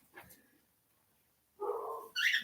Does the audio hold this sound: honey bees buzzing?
no